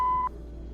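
A single short electronic voicemail beep in the video game Kathy Rain 2, a clean steady tone lasting about a third of a second before cutting to quiet line hiss.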